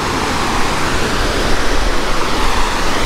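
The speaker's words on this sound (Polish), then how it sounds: "Piękny wodospad." Steady, broadband roar of a waterfall, loud and continuous throughout with no talking.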